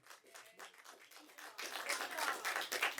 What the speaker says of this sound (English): And you can applaud even though she says no.